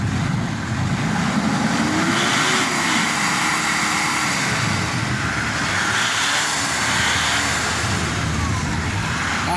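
A 2010 Mitsubishi Dakar diesel engine revving while parked, a loud continuous rumble with rising and falling throttle heard close up, a voice briefly in the background.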